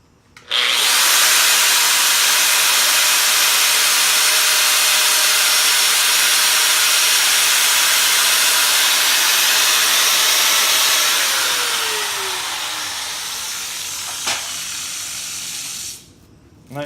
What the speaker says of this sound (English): Grab the old DeWalt grinder, cut-off wheel.